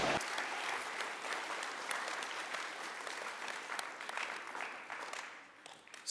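An audience at a forum in Winnipeg claps steadily for the event's sponsors, a dense, sustained round of applause that tapers slightly toward the end.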